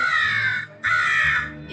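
A crow caws twice in long, harsh, rasping calls separated by a brief gap, loud and close, heard during a school stage comedy play.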